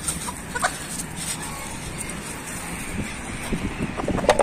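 Chickens cluck on and off at close range against low background rumble, with a brief rooster-like call near the start and busier clucking toward the end.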